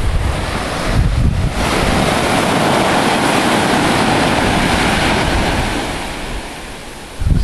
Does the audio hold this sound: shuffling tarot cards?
no